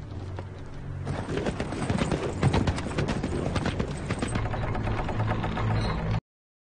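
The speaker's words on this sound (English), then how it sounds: "That's just a horse." Horse hooves clip-clop in a steady, close rhythm from a horse on a TV series soundtrack, running continuously for several seconds before cutting off abruptly, with faint talk underneath.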